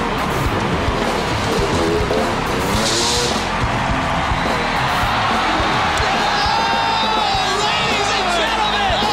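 At the X Games in the Staples Center, a crowd roars as Chuck Carothers attempts a dirt trick never landed before. The roar is loud, dense and unbroken, with a rising engine whine running through it.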